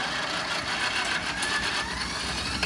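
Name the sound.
4-cylinder V4 pony motor engine starting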